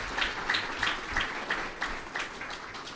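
A crowd claps at a New Year welcome gathering, a soft, slightly distant wash of applause with rhythmic surges of beats running throughout.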